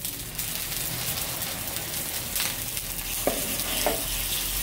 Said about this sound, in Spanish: Aquí tenemos nuestro caldero que ya tiene su acertito, y vamos a echar nuestra carne.